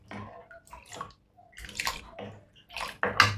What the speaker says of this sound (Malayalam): ഞാൻ അരച്ച വെള്ളം കുറച്ചുണ്ട്, അത് ഒഴിച്ച് കൊടുക്കാം.